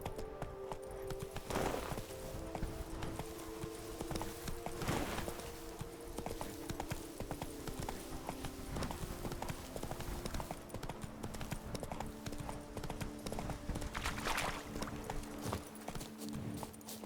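A horse gallops across terrain in The Witcher 3 game, a continuous rapid clip-clop of hooves, fairly close and steady, with occasional louder thuds and faint background ambience.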